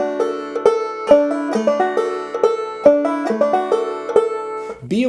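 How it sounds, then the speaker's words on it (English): Banjo playing a looped Galax lick from a double-stop C-shape position, opening with an alternate-string pull-off; a steady run of bright plucked notes and chords repeats several times, close and clear with no talking. "So you can just loop this Galax lick from the double stop C-shaped position and it sounds like"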